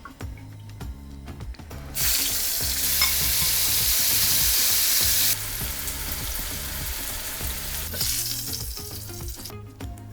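Spiced slices deep fry on a small propane stove, giving a steady close hiss and sizzle that surges loudly for a few seconds as food goes into the oil, then eases back to bubbling.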